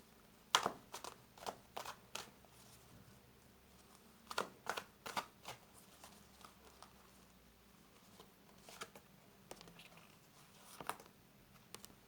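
Tarot cards are shuffled by hand in a quiet room, giving soft, papery riffling bursts in irregular clusters separated by near-silent pauses.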